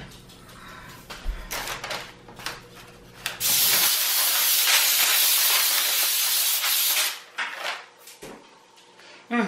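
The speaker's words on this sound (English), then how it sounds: "you do want to take some cooking spray and spray" A steady aerosol hiss sprays for about three seconds, loud and close, with a few clicks and clatters of kitchen handling before and after.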